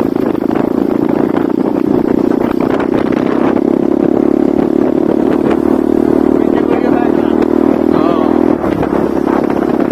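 A motorcycle engine drones loudly and steadily up close on a road, its hum and rattle running throughout while a person talks over it.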